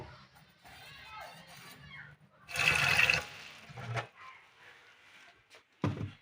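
Tap water splashes over peeled young ridge gourds being washed in a kitchen, a short gush in the middle among softer trickles and handling, with a voice faintly present.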